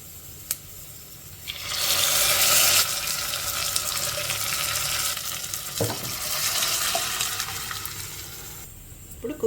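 Dal tossed into a hot tempering in a cooker and fried while stirred, a loud close sizzle rising after a quiet start, with spoon scrapes and a clunk midway before it fades.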